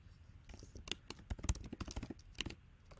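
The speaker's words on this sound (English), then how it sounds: "Just clicking and typing." Rapid, irregular clicks and key taps on a computer keyboard during text editing sound close and crisp, arriving in uneven bursts.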